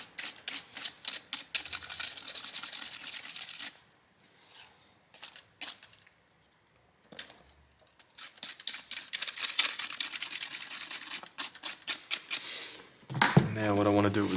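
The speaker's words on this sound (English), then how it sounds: "Now what I want to do is go over the outer edge with a brush. And by brush, I mean a toothbrush." A toothbrush scrubs along the outer edge of a Samsung Galaxy Tab S7 screen glass in rapid, raspy back-and-forth bursts, close and crisp, separated by pauses, with a brief spoken moment near the end.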